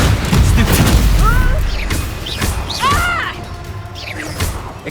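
A Confringo fire spell bursts in a Hogwarts Legacy wizard duel, a loud booming blast at the start followed by crackling impacts and whooshing magic effects, with shouted voices in the fight.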